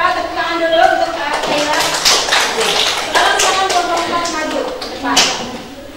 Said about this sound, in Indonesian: Tepuk tangan dulu untuk Taylor.